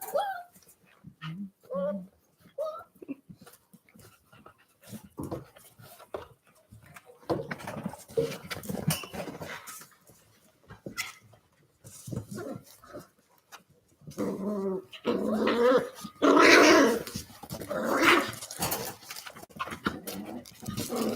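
A happy puppy whimpering, panting and giving low growls in short bursts close by, while people talk over her and the sounds grow louder and busier toward the end.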